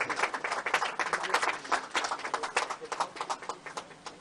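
Scattered audience clapping welcomes a guest at a news channel's staff event, a thin, uneven patter of hands at a modest level with faint voices.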